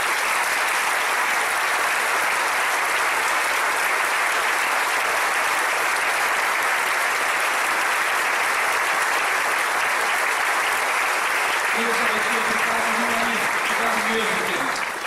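A church congregation claps steadily and loudly throughout a communion service, continuous dense applause with a faint voice or music entering near the end.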